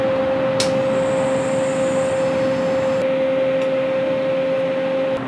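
Vacuum pump drawing down the air conditioning system of a Honda CR-V, a steady, loud mechanical drone with a constant tonal hum, running without pause and close by, with a couple of faint clicks.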